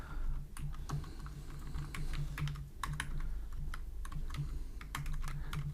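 Code being typed on a computer keyboard, quick irregular key clicks close by and fairly quiet, with short pauses and no talking.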